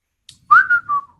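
A short whistled phrase, a bright rising note that holds and then dips, heard alone and close up after a faint breathy onset.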